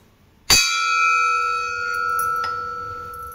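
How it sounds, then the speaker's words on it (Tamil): An antique bronze cooking vessel is struck once and rings out like a temple bell, a bright shimmering tone that sustains and slowly fades, with a faint second tap later. "சவுண்டு பாருங்கள், அப்படியே கோயில் மணி மாதிரி சவுண்டு இருக்கும்."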